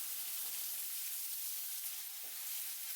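Onions with salt sizzle and fry steadily in a hot pan while cooking crab masala, a bright crackling hiss with occasional soft stirring, no voices.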